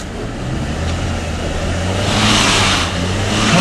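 A Land Rover engine drones steadily while driving off-road, a loud, close, sustained rumble that swells slightly toward the end, with no speech over it.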